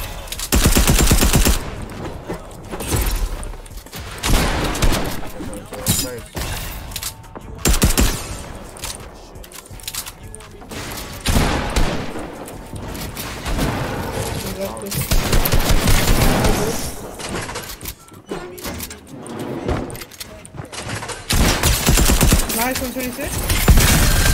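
Gunfire in a trio arena video game battle: dense, repeated bursts of automatic and single shots throughout, loud and continuous with short gaps, while players talk.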